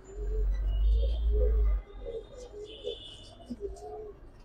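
Several soft coos from Giribaz pigeons repeat in a loose rhythm in a loft, nearby but gentle, with a low rumbling noise at the start.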